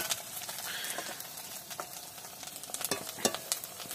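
Garlic hits a pan of fried onions and sizzles and crackles steadily at close range, with occasional stirring clicks and no talk.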